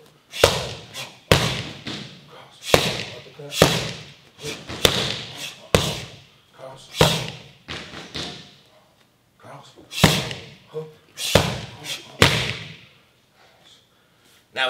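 Punches and kicks land on striking pads during a Muay Thai, boxing and MMA training drill, a steady series of sharp, close slaps and thuds arriving in quick combinations over roughly fifteen seconds, with a voice occasionally heard between the strikes.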